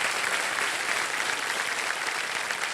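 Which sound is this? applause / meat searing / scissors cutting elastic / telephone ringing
applause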